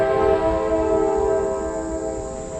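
A train sounds its horn beside the tracks next to a shooting range, a loud, steady, sustained multi-tone blast over rumbling rail noise.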